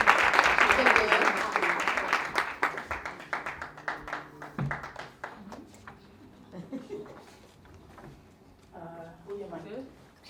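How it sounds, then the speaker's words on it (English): Audience applause at a live show, loud clapping at first that thins out and fades over several seconds into scattered claps as people begin talking. "Give her a round of applause"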